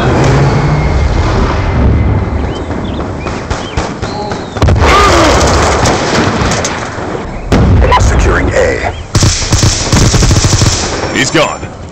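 Warthog aircraft strafing run in Black Ops II, a loud, dense roar of rapid cannon fire and impacts rolling on in long waves with explosive bursts and brief gaps between passes.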